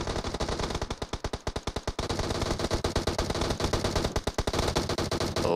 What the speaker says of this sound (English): A lot of shooting in a quick moments here